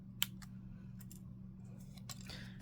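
Scissors cut through card paper for a flip fold card, with a few crisp, quiet snips spaced apart by pauses against a soft background hum.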